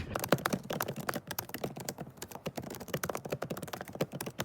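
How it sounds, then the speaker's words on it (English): Fast, furious typing on a laptop keyboard, a dense run of close, crisp key clicks with uneven bursts and no pauses, heard alone without speech. "I'm typing up on my laptop"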